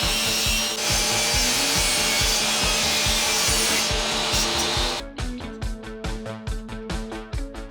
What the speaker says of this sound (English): Set up a fence on the rip saw so I can rip off the uneven edges.